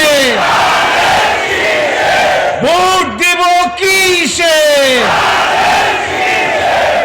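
A crowd at a BNP election rally in Bangladesh chants a political slogan together, a rising, sustained unison shout in the middle set against a constant roar of massed voices.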